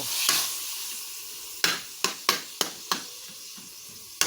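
Meat sizzling and frying in a pan before string beans go in, a continuous hiss broken by about seven sharp stirring scrapes and clatters in the second half.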